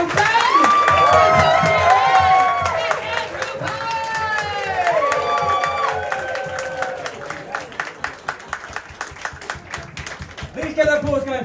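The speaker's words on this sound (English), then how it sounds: "Do some whooping." A comedy club audience in a small downstairs pub venue whoops and cheers loudly, voices rising in high excited calls over a wash of crowd noise, then thinning into scattered clapping and shouts toward the end.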